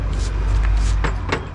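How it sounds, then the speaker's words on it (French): Steady low traffic rumble from cars passing nearby, with a couple of brief whooshes as vehicles go by. "Vive le bruit des voitures."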